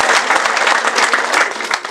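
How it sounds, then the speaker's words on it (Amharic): Applause with ululation fills a church as a congregation praises Jesus; dense, loud, continuous clapping with sharp trills over it, no speech. "ልልታ ጭብጨባ ለኢየሱስ ክብር ይሁን"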